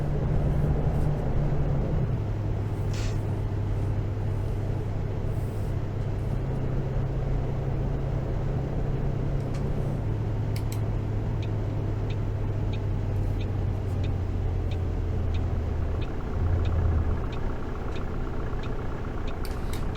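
A Neoplan Skyliner coach engine drones steadily while driving the Dresden to Oberhof route in Fernbus Coach Simulator, with a low, continuous hum that shifts pitch a few times as the gears change, and no talk over it.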